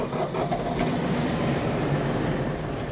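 Steady, loud engine drone of an LS MT335HC utility tractor heard from inside the cab during snow blowing, a constant mid-pitched rumble with no letup.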